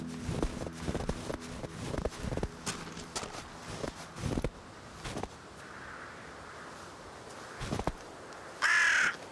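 Crows caw in a snowy survival video game, with loose footsteps and scattered thumps early on and a few clear calls near the end.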